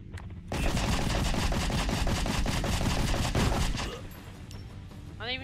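Rapid automatic gunfire in the side-scrolling game Rocketbirds: Hardboiled Chicken, a loud, dense burst of shots for about three seconds that then cuts off, followed by quieter game sounds and a short rising effect.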